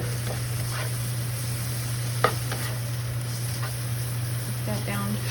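A big hunk of garlic sizzling in a hot pan, a steady close crackle and hiss with occasional stirring scrapes, over a constant low kitchen hum.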